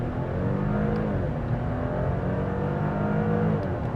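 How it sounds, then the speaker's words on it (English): A 2025 Audi Q7 3.0T SUV accelerates hard from a standstill. A steady, muffled engine and drivetrain hum rises gradually in pitch, heard from inside the cabin. "We can try one out off the line, set it back to automatic mode, let the car do its thing, press and hold, offline, on the gas"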